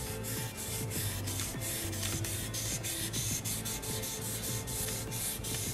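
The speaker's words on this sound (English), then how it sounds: "grab this sandpaper, and you kind of just very lightly" Sandpaper is drawn lightly across a painted guitar body in steady, close rubbing strokes, a continuous soft scratchy hiss with repeated back-and-forth passes and no talking.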